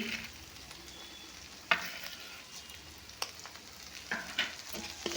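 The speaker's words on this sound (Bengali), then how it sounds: "এগুলো দিয়ে আমি একটু মশলাটাকে কষিয়ে নেব" Masala with cumin powder, chili powder and a little sugar fries in a pan for prawn malai curry, giving a soft continuous sizzle broken by occasional scraping knocks as it is stirred.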